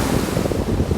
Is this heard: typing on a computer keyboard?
no